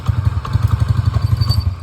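A Honda Beat motorcycle engine, an older model, starting by jumpered starter and settling into a steady, loud idle with a rapid regular thumping close by.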